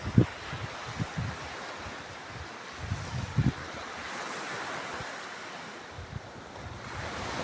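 Strong sea waves surge and crash onto the shore of Saint Martin island in rough, changeable weather, a steady broad roar with a few heavier breaking thumps and gusting wind buffeting the microphone.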